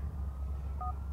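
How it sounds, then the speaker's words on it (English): Phone keypad tones from GTA IV as a call is dialed, two short clear beeps over low background game ambience, no speech. "I'm going to call Brucie just to see where he pops up"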